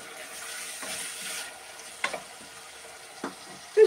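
Beans frying and being stirred in a pan, a soft steady sizzle with a few clicking scrapes of the spoon against the pan, close and fairly quiet.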